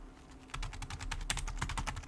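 Fingers type quickly on a flat, laptop-style keyboard, producing a dense, steady run of close, light key clicks over about two seconds with no voices.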